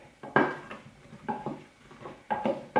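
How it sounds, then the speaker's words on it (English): Buttered mushrooms are stirred in a crock pot, giving a few soft, close scraping and clinking bursts of a utensil against the pot, spaced out with quiet pauses between strokes. "And then I am going to give them a stir in the crock pot."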